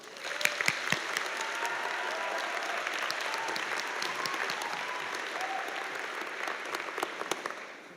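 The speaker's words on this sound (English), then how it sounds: "please give a round of applause to Autumn Quill and Gianna Rabia" A graduation ceremony crowd applauds laureate honors graduates with steady, even clapping that holds for about eight seconds, a few sharper claps standing out.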